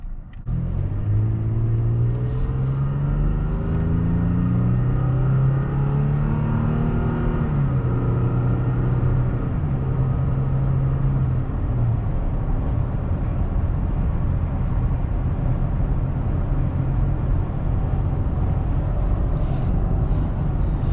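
Cabin drone of a 2016 Toyota Tacoma TRD Sport 4x4 pickup cruising at highway speed, a constant low engine hum with a tone that rises and eases back, under steady road and wind noise throughout.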